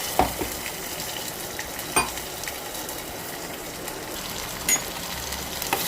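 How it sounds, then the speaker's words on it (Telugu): Mustard seeds and curry leaves fry in hot oil with a continuous close sizzle for a spicy onion tamarind stew. Occasional sharper pops and utensil clicks rise above it. "మస్టర్డ్ సీడ్స్ వేయిపోతున్నాయి ఇప్పుడు ఇందులో మనం కరివేపాకు వేసుకోవాలి"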